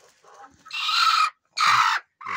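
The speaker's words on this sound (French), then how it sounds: "j'ai une poule java qui est en train de couver" A brooding Java hen makes harsh, raspy clucking bursts, loud and close, two long ones with short pauses between.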